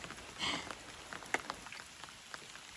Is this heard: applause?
no